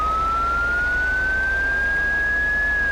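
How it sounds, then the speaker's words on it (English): A police siren in Euro Truck Simulator 2 holds a steady, slowly rising wail over a low engine hum throughout. "I would so love it if he would turn those sirens off right now."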